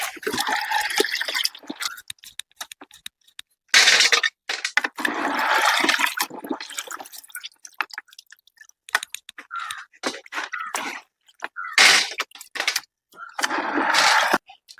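Seeds are washed in water: water splashes and sloshes in bursts as they are rinsed and swirled by hand, with pauses between the wet, gurgling bouts.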